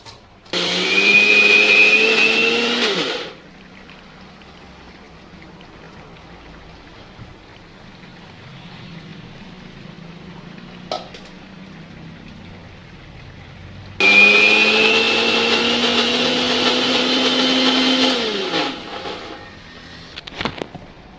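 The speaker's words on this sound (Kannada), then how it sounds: "ಇದಕ್ಕೇನೆ ಹಾಕಿ ರುಬ್ಬಿದ್ರೆ ಆಯಿತು ಈಗ ತರಿ ತರಿಯಾಗಿ ರುಬ್ಕೊಂಡು ಬರ್ತೀವಿ" A kitchen mixer grinder coarsely grinds spice masala with rice in two loud, whirring bursts of about three seconds each, separated by a quiet pause with small handling knocks.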